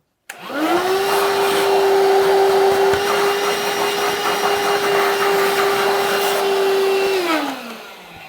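A household vacuum cleaner starts abruptly and runs with a loud, steady motor whine for several seconds during cleanup, then winds down at the end.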